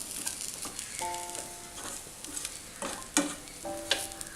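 Bread upma with tomato being stirred in a pan, a spoon scraping and turning the mixture in short repeated strokes with a soft sizzle underneath, close and moderately quiet, no talking.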